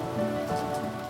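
A summer rain shower falls steadily outdoors, a dense even patter of raindrops hitting surfaces, with no voices.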